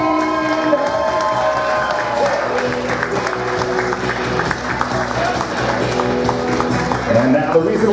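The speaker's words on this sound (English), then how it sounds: "put your hands together for your best man and maid of honor" Guests at a wedding reception clap and cheer loudly and continuously, with crowd noise and an announcer's voice over the applause.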